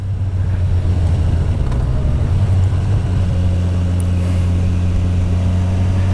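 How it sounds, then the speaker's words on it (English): A Kawasaki Versys 1000 SE GT motorcycle's engine drones with a steady, deep intake roar while riding, a constant loud hum with no breaks and no talk over it. "you just hear this wonderful admission sound, or air intake sound"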